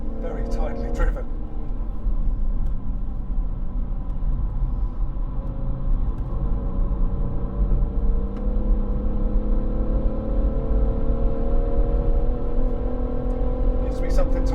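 A BMW M140i laps the Goodwood circuit, its engine droning steadily with rising and falling revs as it brakes and accelerates through corners, loud and continuous, with brief clatter at the start and end and people talking over it.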